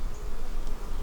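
Honeybees buzz softly inside a nearly foodless hive box during an October inspection, a close, steady low drone.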